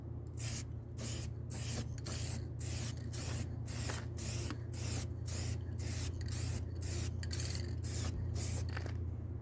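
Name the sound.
spray paint from a shaken rattle can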